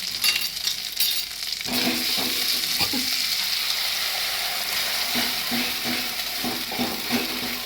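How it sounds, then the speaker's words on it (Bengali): Masala paste poured into hot oil for a jackfruit kofta curry, a close sizzle that jumps louder once the paste goes in, with scraping stirs and light pan clatter, no talking. "এবারে আমি যে মশলাটা পেস্ট করে নিয়ে এসেছি, এই মশলাটা আমি ঢেলে দেবো।"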